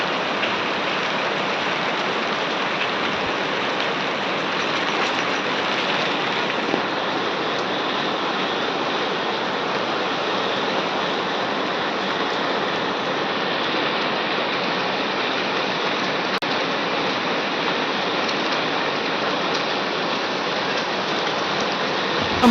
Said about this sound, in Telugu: వర్షాలు అయితే కురుస్తున్నాయి.